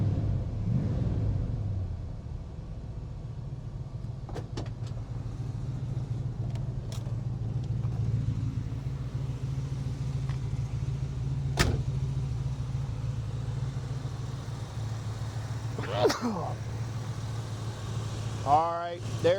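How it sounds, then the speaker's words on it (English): Small block Chevy 350 cubic inch V8 in a classic Camaro with automatic overdrive transmission, idling with a steady low rumble throughout, with a few faint clicks and a person speaking briefly near the end. "There's your small block Chevy 350 cubic inch engine under here."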